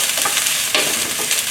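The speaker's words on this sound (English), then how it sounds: "Stir everything until aromatic" Peppers, ginger and garlic stir-frying in a wok give a close, continuous sizzle with scraping stirs and a sharper clatter midway, and no one speaks.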